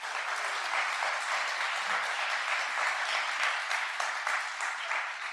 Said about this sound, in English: So just want to give you a quick round of applause.